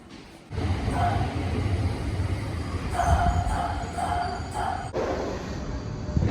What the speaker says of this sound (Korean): 이번 영상은 좀 특별하게 지하철 타고 파라주쿠로 가겠습니다